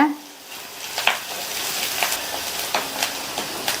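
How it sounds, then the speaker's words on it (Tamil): Green chili and curry leaves sautéing in a hot pan, giving a steady close sizzle with a few soft utensil knocks spaced through it. "இது கூட கறிவேப்பிலை சேர்த்துக்கலாம். இதை 1 நிமிஷத்துக்கு வதக்கி விட்டுக்கங்க."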